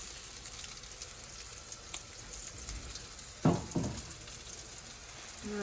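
Sweet potato and tuna patties sizzle steadily in hot oil in a pan, a constant crackling hiss with a brief louder spatter partway through.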